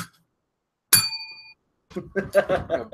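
A single bright bell ding rings once and sustains briefly in a live broadcast setting, followed by voices talking after a short gap.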